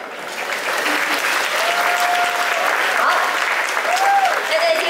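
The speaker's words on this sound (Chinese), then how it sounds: "我们掌声再一次谢谢我们的华乐团带来这首曲子" A concert audience claps warmly for the NUS Chinese Orchestra at the Huayi Chinese Festival of Arts 2023, keeping up steady, full applause throughout. Faint voices and brief tonal sounds come through over the clapping.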